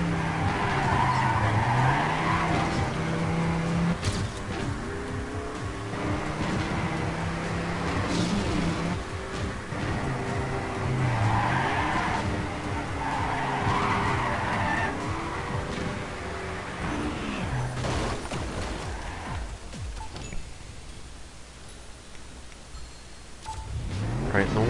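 A race car in Trackmania 2 Canyon skids through corners, with repeated swooping tire squeals and engine noise over a continuous loud drone that eases off near the end.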